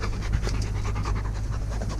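A dog pants rapidly and close to the microphone near a lake, a steady rhythmic huffing with no talk.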